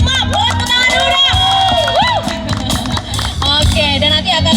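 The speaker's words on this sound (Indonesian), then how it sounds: "Boleh tepuk tangan dulu dong." An audience at an outdoor event at a Brimob mobile police headquarters in Jambi cheers, shouts and claps loudly for a police band, with a dense, continuous crowd roar and voices calling out throughout.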